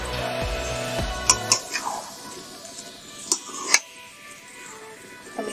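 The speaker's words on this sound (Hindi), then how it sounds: "हम इसी तरह पूरी मैगी को मिक्स कर देंगे सारी वेजिटेबल्स में" Maggi noodles and vegetables are stirred together in a pan, with a spatula clinking and scraping against metal in a few sharp, separate knocks over a fading background hum.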